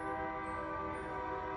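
A train horn holds a steady, loud, sustained multi-tone blast with no break, heard alone without talking.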